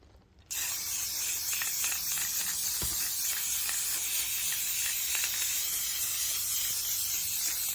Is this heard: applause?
no